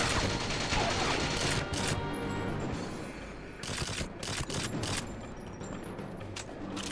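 Sustained gunfire in the video game 007 on the Wii, a dense, loud stretch of rapid shots with brief bursts and clicks layered on top.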